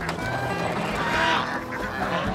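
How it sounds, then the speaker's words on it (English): A flock of geese honk and cackle continuously at close range, a dense, noisy chorus of overlapping calls. "The geese."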